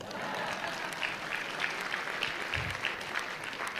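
Moderately quiet applause from a small audience, scattered clapping that carries on evenly for a few seconds, fairly distant and without speech.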